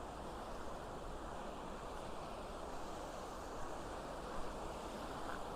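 Flowing water of Cheonggyecheon stream in Seoul at dawn, a steady broadband rush with no breaks, fairly faint and even, with no voices over it.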